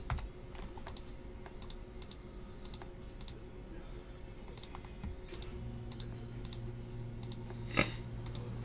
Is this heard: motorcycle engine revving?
no